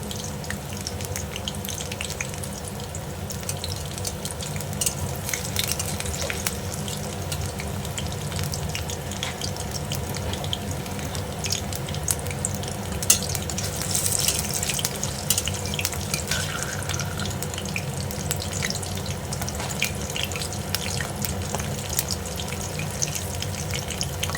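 Bok flower fritters fry in hot oil with a continuous, even sizzle that stays steady throughout, close but fairly soft, with occasional faint clinks as they are turned.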